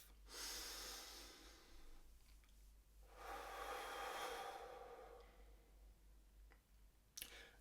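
Two slow, deep breaths, each a long airy inhale or exhale with a quiet pause between them, close and soft, followed by a faint click.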